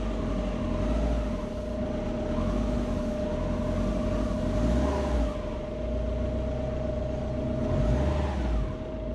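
A sleeper Subaru's engine drones on its first drive, with throttle swelling and easing in broad waves over a steady whine, loud and close for about nine seconds.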